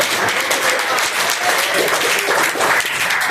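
A church congregation claps in praise during a worship service, a dense, steady wash of many hands sustained loudly from start to finish.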